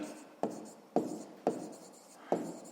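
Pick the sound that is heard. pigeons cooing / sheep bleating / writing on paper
writing on paper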